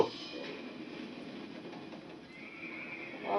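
Pony whinnying in the horror video game Layers of Fear, a clear neigh heard close and fairly loud over a dim background with no talking.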